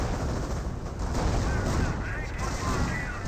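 Continuous artillery barrage with gunfire from a Company of Heroes match, a dense, steady roar of overlapping blasts and crackling shots at constant loudness throughout.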